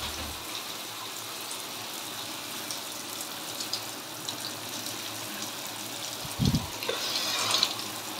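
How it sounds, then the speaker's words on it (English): Shower water running steadily in a bathroom, a constant hiss of spray, close and fairly soft, with a brief thump and splashing change near the end. "I'm trying to have a shower in peace."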